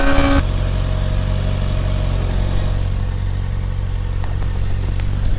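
A 2021 Kawasaki Ninja ZX-6R 636 sport bike engine drones loud and steady under wind rush, a brief higher burst at the start, then a sustained mid-pitched roar heard from the rider's position.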